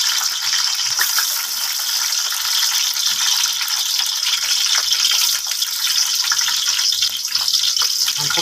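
Onion and garlic sautéing in ghee or oil for a lentil and vermicelli soup, a continuous bright sizzling hiss with rattling clatter from stirring, close and even throughout.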